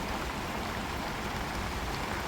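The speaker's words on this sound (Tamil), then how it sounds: "இப்போ மழையும் வந்துருச்சு" Steady rain falls outdoors in a village, a dense even hiss of drops with no distinct pattern, faint and continuous throughout.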